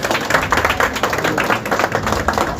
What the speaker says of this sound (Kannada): ಈ ಸಂದರ್ಭದಲ್ಲಿ ನಟಿ ಸುಲಕ್ಷರಿ ಒಂದ್ಸಲ ಚಪ್ಪಾಳೆ ಅಭಿನಂದನೆ ನಾವು ಸಲ್ಲಿಸಬೇಕು.